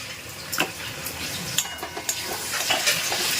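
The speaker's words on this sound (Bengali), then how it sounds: "একটু এবার একটুখানি নাড়িয়ে কেমন হয় কালারটা" Red chili powder and ground coriander are stirred into food cooking in a pan, with irregular scraping clinks over a soft, steady sizzle, close and without talk.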